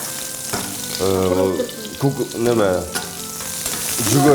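Zucchini pieces sizzle steadily in a hot frying pan, with a continuous close frying hiss and a tonal melody running over it.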